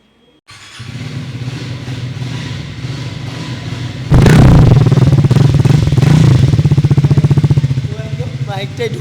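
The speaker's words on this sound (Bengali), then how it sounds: "বাইকের সাউন্ডটা তোমাদেরকে শোনাই।" A Triumph Speed 350 motorcycle engine starts up and idles nearby with a steady, throbbing thump, then swells into a louder, rougher run partway through before easing back, loud and close throughout.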